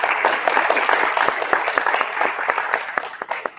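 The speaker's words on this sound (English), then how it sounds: "So please give them a round of applause." An audience claps for the panelists at a Día de Muertos altar panel in Idaho, a steady, dense round of applause that carries on throughout without fading.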